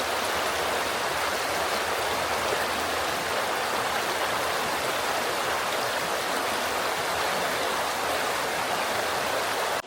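A New Zealand river stream flowing steadily, a dense continuous rush of water heard up close and evenly loud throughout, with no voices.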